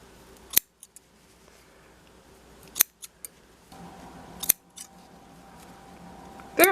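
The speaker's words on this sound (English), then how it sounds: "once you've cut off all your yarn" Crisp scissor snips cut yarn from a sock made on a vintage sock knitting machine: a handful of sharp, separate clicks spaced a second or two apart in a quiet room.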